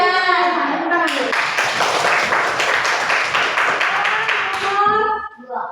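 Children in a classroom clap their hands together in a brisk burst of several seconds, bracketed by a teacher's voice talking before and after.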